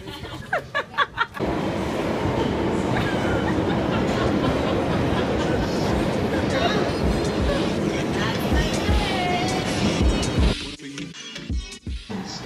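A London Underground Piccadilly line train rumbles and rattles loudly along the track with a continuous roar, brief voices heard before it builds and as it fades.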